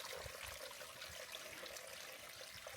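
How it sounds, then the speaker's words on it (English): Water trickles and babbles steadily along a mountain trail turned into a small creek near Guitar Lake below Mt. Whitney, a faint, continuous outdoor gurgle. "The trail has become a little bit of a creek."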